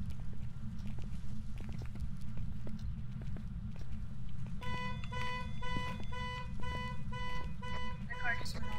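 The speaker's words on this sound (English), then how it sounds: "I think she set off the car alarm." A car alarm in the video game Phasmophobia starts partway through, a steady repeating electronic pattern over a constant low hum and scattered footsteps.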